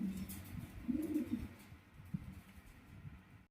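Fancy pigeons, a pair of shorting pigeons, coo softly and low from nearby, with faint rustling and a quiet background.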